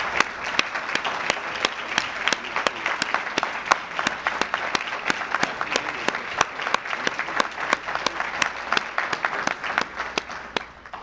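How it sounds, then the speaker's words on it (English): Sustained round of applause at an ecumenical prayer breakfast honoring DeKalb County police, fire and emergency management workers, many hands clapping steadily with distinct sharp claps, fairly loud throughout. "please stand up so we can give them a great round of applause"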